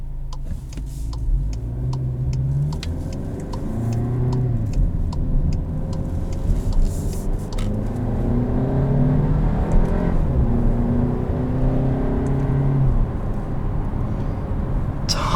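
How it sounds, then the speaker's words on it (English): Cabin view of a Volkswagen Arteon's 2-liter turbocharged four-cylinder running and accelerating, a steady engine drone climbing in pitch through repeated pulls with shifts between them, over road and wind noise, with no talk. "Tons of thrust from this 2-liter turbocharged 4-cylinder."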